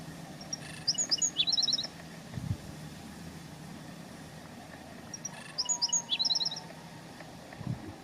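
A black-throated sparrow in the California desert sings two bright, tinkling phrases of high chirps and trills several seconds apart, heard alone over a faint low rumble like a distant engine.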